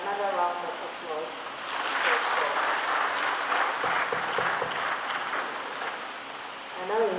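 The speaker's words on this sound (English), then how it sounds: "Another round of applause" Audience at an inaugural lecture breaks into applause, a dense sustained burst of clapping that swells after a brief spoken moment and carries for several seconds before a voice returns.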